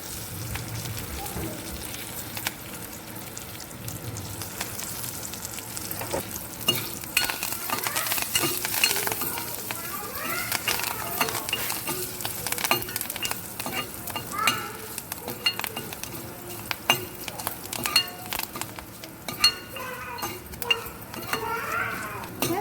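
Dried red chilies, crushed garlic and curry leaves frying in hot oil for a rasam tempering, a steady sizzle with stirring and clinks of a spoon against the pan, close up, with no talking.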